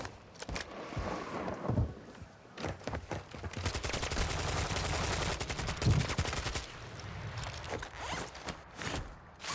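Rapid gunfire in the Warzone 2 shooter, a dense run of sharp, closely spaced shots that builds into sustained bursts through the middle of the clip, loud and near, with scattered single reports before and after.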